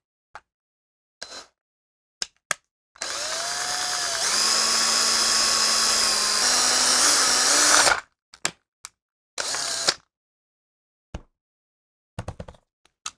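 A power drill bores out a rivet on a toy Evel Knievel stunt cycle, a steady whining five-second run bracketed by sharp clicks and knocks of handling the toy, close and loud.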